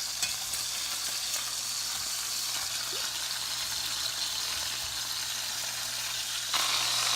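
Chicken pieces frying in a pan for Chicken Vesuvio after being flipped, a loud, steady, close sizzle with faint stirring and a low hum underneath, no talking.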